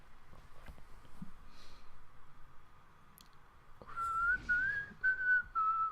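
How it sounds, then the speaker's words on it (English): A person whistles a short wavering tune near the end after a stretch of quiet clicks and small room noises, the whistle close and fairly soft. "Why am I whistling?"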